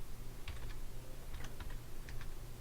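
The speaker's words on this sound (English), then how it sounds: "Typing math is no fun at all." Quiet clicking of a computer keyboard, small clusters of quick keystrokes separated by short pauses over a faint steady hum.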